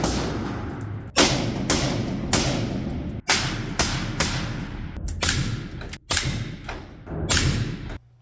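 Suppressed 5.56 rifle fitted with a titanium HUXWRX HX QD suppressor fired rapidly outdoors at a range, a string of close, sharp, muffled thumps about half a second to a second apart, each trailing briefly.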